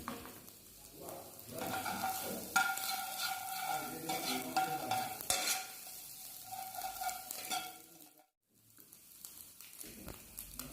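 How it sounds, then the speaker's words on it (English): Garlic and onion stir-fry in a pan for simple fried rice, with a steady, close sizzle and continuous stirring and scraping that stops briefly near the end. "put the garlic and the onion. And stir it up."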